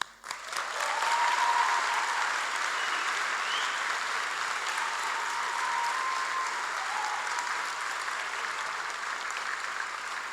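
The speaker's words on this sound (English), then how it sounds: "join me in giving a huge round of applause to the real stars of the evening" A graduation audience gives parents and families a long, steady round of applause, a dense wash of many hands clapping at moderate distance that swells in and sustains without a break.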